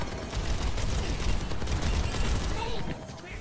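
Rapid, continuous gunfire from a hacked turret in a hardcore competitive shooter match, a dense steady burst of shots lasting the whole stretch and easing slightly near the end, with mechanical clatter mixed in.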